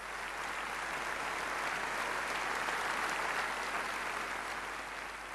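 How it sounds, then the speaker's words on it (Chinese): An audience gives a steady, sustained round of clapping for a choir at a live stage performance, even and fairly quiet in level throughout with no voices over it. "再次给掌声他们一次"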